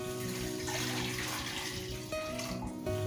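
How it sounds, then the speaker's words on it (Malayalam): Water poured from a vessel onto about two cups of sugar in a pan for a sweet syrup, a steady continuous splashing stream running for about three seconds, close and fairly loud, with no talking. "എന്നിട്ട് അതിക്ക് ആവശ്യത്തിനുള്ള വെള്ളം"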